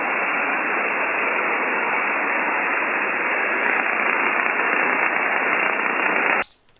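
An interfering station on the 10 meter amateur band near 28.410 swamps a net: a loud, steady wash of muffled, hissing radio noise runs for about six seconds, then cuts off abruptly.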